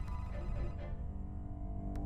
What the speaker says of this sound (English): I heard a phone.